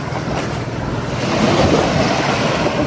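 Sea waves wash against the shore of an island, a loud continuous roar of surf close by, mixed with heavy wind buffeting and no voices.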